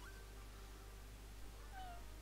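A single short meow from a naked pink cat creature in the Pokemon Insurgence video game, faint and rising then falling near the end, over a steady low hum with no talking.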